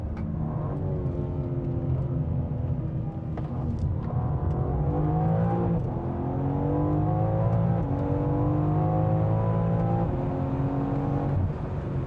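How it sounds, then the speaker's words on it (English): Exhaust note of a Bovensiepen Zagato BMW M4 with modified intake, exhaust and engine map, heard while driving: a steady loud droning engine with rising and falling revs, sustained throughout with no speech. "Bovensiepen has changed the intake system and the exhaust and has given this car a map, and it has a very different exhaust note."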